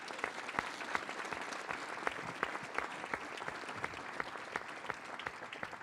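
An audience at a conversation event with state governors gives a round of applause for a governor, an even patter of many hands with sharp individual claps standing out, heard at moderate distance.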